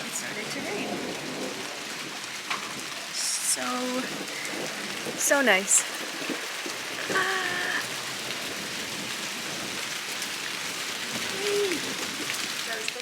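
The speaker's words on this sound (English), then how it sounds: "now it started to rain." Steady rain falling on a surface outdoors after a sunny day, a continuous soft hiss throughout with a few brief louder spatters, while a person speaks briefly over it.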